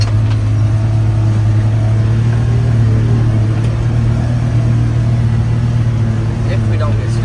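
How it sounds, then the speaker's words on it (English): A Ford Ranger truck driving in snow makes a constant low engine drone with a steady hum inside the cab, while people talk over it. "I think we'll just drive the Ranger around."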